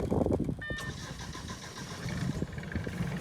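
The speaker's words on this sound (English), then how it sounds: "engine started" A boat engine cranks and catches after the start button is pressed, settling into a low, steady idle rumble close by with some water and exhaust noise, and no talk over it.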